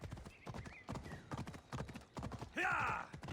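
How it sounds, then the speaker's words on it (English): A horse gallops away in Assassin's Creed Odyssey, with rapid, close hoofbeats clattering throughout and a sharp whinny near the end, under a faint voice. "there goes the horse"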